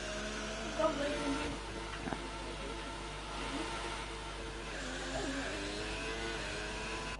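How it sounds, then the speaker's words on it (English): Formula 1 car engine in the racing game F1 2018 at the Canada circuit, a steady high-pitched engine drone with shifting revs running continuously, heard with voices talking over it. "as we can hear the better sound of the engine"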